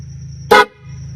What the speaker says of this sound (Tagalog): Air horn o busina, parang ganun to. Parang busina talaga. Pero dito ilalagay sa bag.